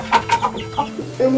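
Short clucking notes from a chicken sound in a quick uneven series, close and fairly loud, ending with a higher drawn-out cluck.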